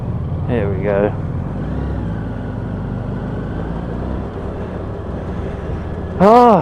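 Steady engine drone and wind rush of a Honda VFR800X Crossrunner motorcycle riding along a road, recorded close on the bike, with brief voice-like bursts at the start and end.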